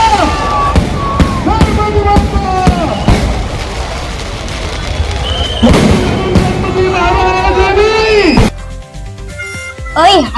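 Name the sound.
firecrackers bursting for Ganesh idol arrival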